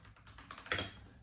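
Quick, soft keystrokes on a ROYALAXE ProtoArc Y98 wireless mechanical keyboard tap out a fast irregular run of clicks, close and fairly quiet, with one slightly louder clack near the end.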